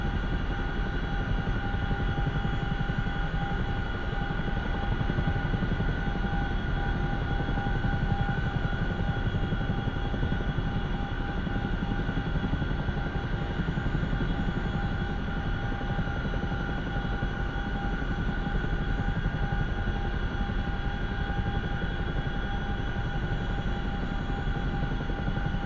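A simulated CH-47F Chinook twin-rotor helicopter rolls along the ground toward a takeoff pad, a constant loud engine and rotor drone with a steady high whine, unbroken and without voices.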